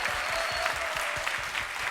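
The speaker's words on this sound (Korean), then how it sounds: "응원의 박수 좀 부탁드리겠습니다" Audience applause at a robotics-themed talk show, a steady, moderately distant wash of many hands clapping at an even level for the whole stretch.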